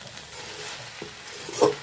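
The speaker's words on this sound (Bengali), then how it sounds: "এই যে আর এক মিনিট এক মিনিট ধরে একটু নাড়িয়ে চাড়িয়ে রান্না করে নেবেন" A spoon stirs bete greens (bethua shak) with poppy seeds in a hot pan, giving soft scraping strokes over a quiet sizzle, close and moderately loud, with a brief sharper clink near the end.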